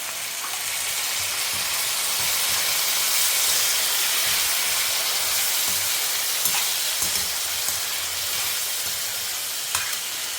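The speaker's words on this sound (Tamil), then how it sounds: "தக்காளி கொஞ்சம் நல்லா வதங்கட்டும்" Tomatoes sautéing in hot oil for a Tamil vallarai thuviyal, giving a steady, dense sizzle and hiss that runs unbroken for the whole stretch, with a few faint stirring clicks and no voices.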